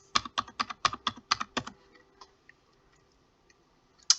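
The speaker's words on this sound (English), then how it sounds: "type in your information." Quick typing on a computer keyboard, about a dozen crisp close key clicks in a fast burst that trails off into a few scattered taps and a final click.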